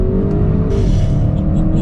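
A 2020 Audi RS6 Avant engine revs hard under acceleration, a loud, deep, continuous roar heard from close by that rises in pitch as it pulls.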